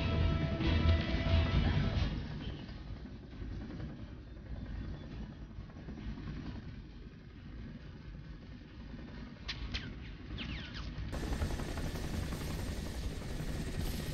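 A helicopter in the Crysis PC game flies overhead with a steady, heavy rotor thrum and engine drone throughout, dipping slightly midway and then returning stronger.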